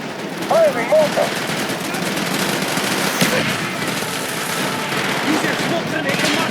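Mortar fire in Call of Duty: Black Ops during the Project Nova mission, rendered as a dense barrage of gunfire and explosions that runs continuously, with shouted voices mixed in.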